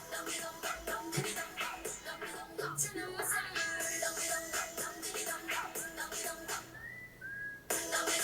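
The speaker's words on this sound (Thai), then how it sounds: "ชอบท่อนผิวปากนี่" A melodic whistled hook from a song plays within the music track, bright whistle phrases riding over backing instrumentation, clear and fairly prominent, without overlaid talk.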